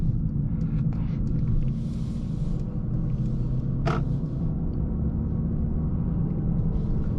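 A Mercedes CLA 35 AMG coupe holds high revs in second gear, its engine a constant loud rumble and drone heard from inside the cabin with no gear change.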